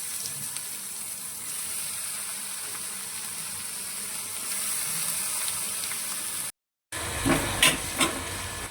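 Chopped onion sizzling in a pan for chicken kheema, a steady hiss of hot oil held close, broken by a brief cut, then a few clattering spoon or pan knocks near the end.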